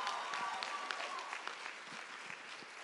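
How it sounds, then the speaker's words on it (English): Audience applause at a fan convention stage session, a steady wash of many hands clapping at moderate loudness, continuous throughout with scattered sharper claps and a few faint voices mixed in. "I love your applause, because I think we all need that."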